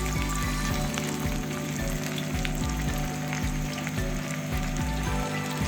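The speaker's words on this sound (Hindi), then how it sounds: "अब इसमें हम एक एक करके ये फ़िश के पीस शामिल करेंगे जो हमने मैरिनेट करके रखी हुई है।" Marinated fish pieces for pakora fry in hot oil with a loud, continuous crackling sizzle. Soft low thumps recur every half second or so beneath the steady bubbling, close and without voices.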